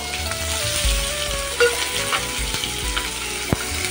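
Chopped onion and green chillies fry in oil in a pan for a fish and Malabar spinach dish, a close, steady sizzle with a few clinks of a stirring spoon and no talk.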